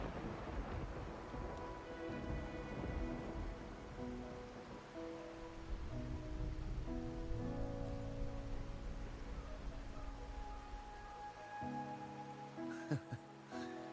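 Rain falling on a rainy night in the video game Wuthering Waves, a steady soft patter under tonal game music, with occasional brighter drop sounds near the end.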